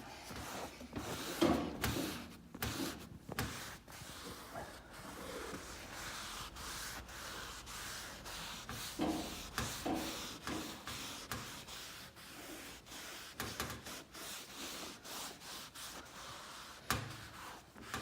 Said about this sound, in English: Keep applying the alcohol cleaner to make sure that you're removing the excesses.